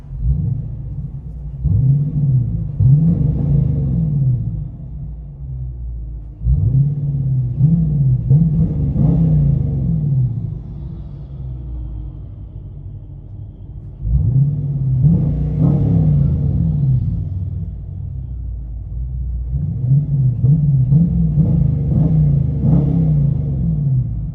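Inside a 2023 Dodge Challenger with a 5.7L HEMI V8 and Flowmaster Super 10 exhaust, a deep cabin drone rises and falls through several acceleration pulls, steady and loud without voices.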